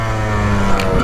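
A Yamaha YZ 125 dirt bike engine runs loud and close at high revs with a steady, buzzing drone and a small throttle surge near the end.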